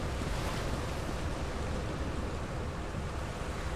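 Floodwater in Lethal Company rushes in a steady, dense roar, loud and unbroken from start to finish, with no voices over it.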